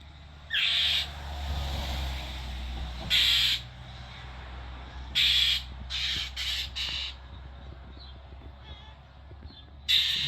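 A bird calls outside at a cat with a series of loud, harsh caws spaced a few seconds apart, some doubled in quick bursts, over a low steady background hum.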